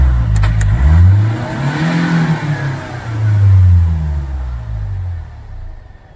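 A 2018 Hyundai Verna car with a starting problem cranks and fires, then its engine revs loudly in rising and falling swells from close by, with no talking.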